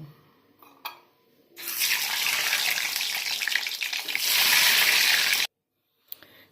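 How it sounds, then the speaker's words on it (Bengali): Eggs dropped into hot mustard oil in a pan burst into a loud, steady hiss of frying that runs for several seconds close up, then cuts off abruptly, with a few faint kitchen clinks before and after. "সর্ষে তেল গরম হয়ে গেছে ডিমগুলো ভেজে নেব"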